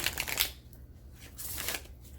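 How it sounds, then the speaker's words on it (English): Tarot cards shuffled by hand in short riffling bursts, crisp and close, with a quiet pause in the middle before another round of shuffling. "One more shuffle for Cancer."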